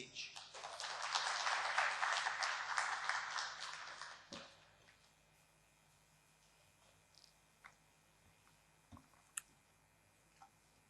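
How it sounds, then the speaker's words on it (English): An audience at a welcome-speech forum applauds as a speaker walks to the stage: dense clapping for about four seconds, then it fades into a quiet room with a few scattered clicks and small noises. "let's give him a round of applause as he makes his way to the stage"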